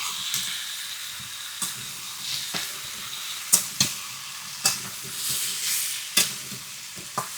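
Chopped ash gourd pieces stirred in a hot sizzling pan, a steady frying hiss broken by repeated sharp scrapes and clatters of the spoon against the pan.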